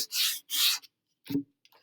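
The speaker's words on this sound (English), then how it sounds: "as I'm sanding, I'm changing the angle of my sanding block while I'm going around" Hand sanding wood with a sanding block and 120 grit paper: two close, rasping back-and-forth strokes, a pause, then a shorter scrape and a faint final touch, in a quiet room.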